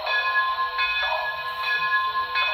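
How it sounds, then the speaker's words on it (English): A model train's bell rings as a steady, repeating electronic clang with a bright, sustained tone. It sounds close and continuous, with a slight regular pulse and no voices. "All right, here's the bell."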